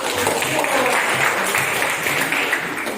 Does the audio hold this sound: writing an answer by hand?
no